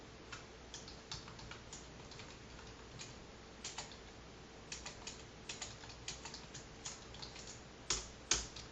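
Java code is typed on a computer keyboard in soft, uneven bursts of quiet clicking keystrokes, close by, with a few louder key taps near the end and no talk.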